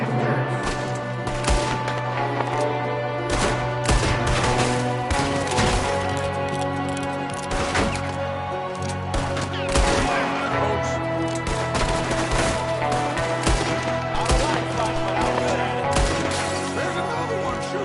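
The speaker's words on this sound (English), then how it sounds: "there's another one shooting from the window" Dense gunfire in Red Dead Redemption 2, a steady barrage of shots and crashes layered over a continuous musical and ambient bed, with faint voices now and then.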